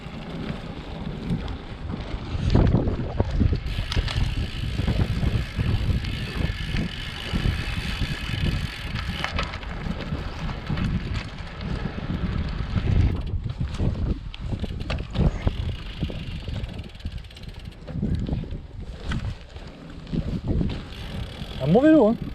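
A handmade Colombus Thron bicycle ridden outdoors, with drivetrain clicks, tyre rumble and heavy wind buffeting on the microphone throughout, steady and close.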